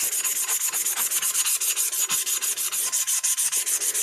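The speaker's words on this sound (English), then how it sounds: "So I just scuff it enough to get off the oils from the manufacturer." Rapid, rhythmic scratchy rubbing of sandpaper scuffing a metal tumbler cup, steady back-and-forth strokes, close and continuous with no talking.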